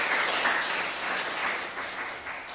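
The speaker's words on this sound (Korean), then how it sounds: "우리 박수로 환영하겠습니다" A church congregation at a Sunday service applauds in welcome, a brief, dense burst of clapping from many hands that fades slightly over a couple of seconds.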